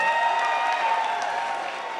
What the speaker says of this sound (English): let's clap for this veteran actor